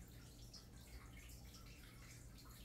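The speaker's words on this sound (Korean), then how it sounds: "제가 이제 우리 어항 지금 물소리 들리죠?" Water trickling and bubbling in a home tropical fish aquarium, a steady faint wash of splashing with a low hum beneath, continuous and unbroken throughout.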